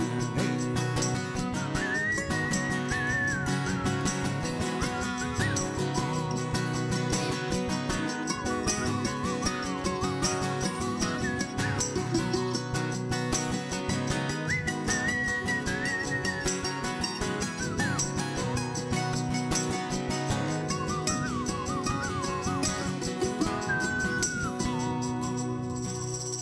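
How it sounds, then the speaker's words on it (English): Melodic whistling in a campfire music performance, a tune carried over steady guitar and singing that runs loud and continuous throughout. "I love the whistling."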